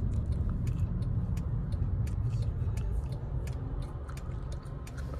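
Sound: car driving

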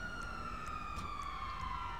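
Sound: ambulance siren, from the video game GTA Online

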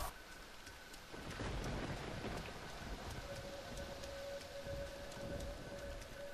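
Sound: thunderstorm with rain in video game DayZ Origins

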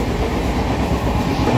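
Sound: moving AC train between Digha and Howrah

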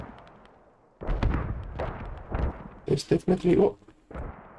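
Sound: gunfire in the video game Squad

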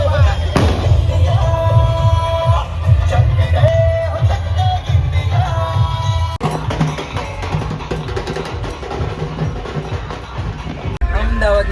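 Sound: firecrackers bursting

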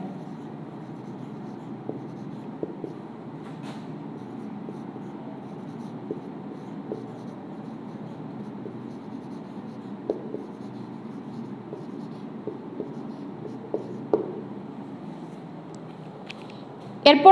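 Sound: writing by hand on paper

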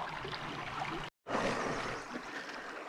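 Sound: creek water flowing

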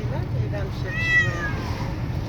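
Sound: cats meowing in a car

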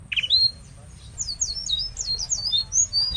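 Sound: pigeons squawking in a tree

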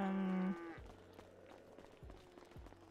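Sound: cow mooing in a video game

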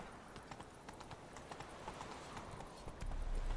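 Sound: horse Roach galloping in video game The Witcher 3

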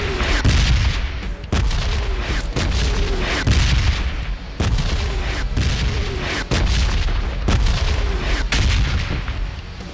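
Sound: rocket launcher firing in PUBG Mobile video game

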